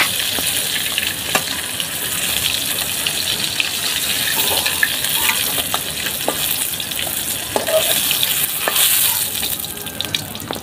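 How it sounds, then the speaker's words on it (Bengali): Kakila fish sizzles steadily in hot oil, a continuous crackling hiss with occasional sharper pops and spatters throughout. "একইভাবে লাল করে আমি সবগুলো মাছই ভেজে নিব।"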